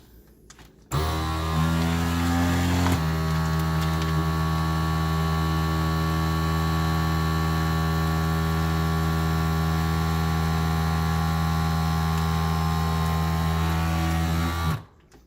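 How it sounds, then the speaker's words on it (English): A vacuum sealer bagging smoked lamb shanks drones loudly for about fourteen seconds, shifting pitch slightly early on, then stops abruptly; no voices. "And we're going to vacuum bag this."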